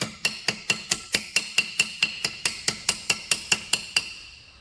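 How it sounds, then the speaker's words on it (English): A hammer strikes an aluminum armor ear flap in an even rhythm, about seventeen sharp ringing metallic blows close up, with no voices. "this one I'm going to try to hammer out first"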